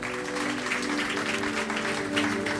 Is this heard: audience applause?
yes